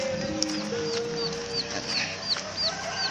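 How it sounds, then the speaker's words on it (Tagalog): Chickens cluck in a steady farmyard chorus, with a few higher squawks rising over the background chatter of the flock. "Ang mga chicken nila,"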